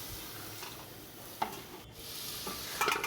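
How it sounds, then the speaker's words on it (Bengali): A soft hiss rises as water goes into fried lentils in a pan, while a spoon scrapes and stirs a few times. The sound is fairly quiet and close, with no voices. "এই যে ডাল ভাজা হয়ে গেছে এর মধ্যে এবার জল দিয়ে দিলাম"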